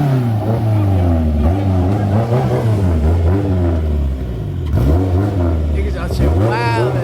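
A loud modified car with nitrous roars through a drag race, its engine revving hard with rising and falling pitch through gear changes, close and continuous.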